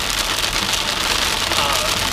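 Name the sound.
rain falling while driving in Florida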